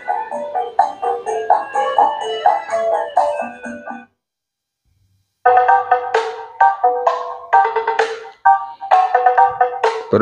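Music played through a homemade power amplifier built from a phone charger, driving midrange speakers; tonal melodic phrases play, cut out to silence for about a second, then resume with bright, mid-heavy notes.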